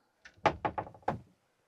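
On a 2025 Hobby De Luxe 490 KMF caravan, the compartment door over the fuse box and light control module is shut with several close, quick thunks and clacks in a row, then silence, with no talk.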